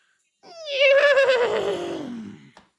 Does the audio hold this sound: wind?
no